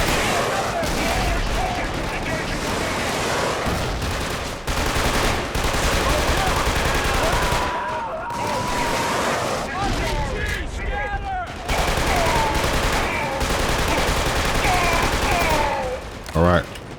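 Dense gunfire and explosive RPG blasts from the video game Killzone 2 on a battlefield, with continuous loud automatic fire, shots and bursts, broken by a few brief lulls.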